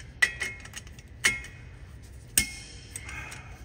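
A torque wrench tightens rear brake parts on a Ford Transit 250/350 during a brake and rotor job, giving three sharp metallic clicks about a second apart, each with a brief ringing tail over low background hum.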